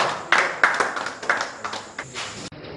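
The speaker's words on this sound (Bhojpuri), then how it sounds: "ताली से स्वागत कर जाओ" An audience claps in welcome for Bhojpuri film actors, producing a brief stretch of scattered, uneven claps at moderate volume with no talking.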